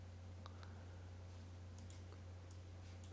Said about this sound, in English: going to click OK here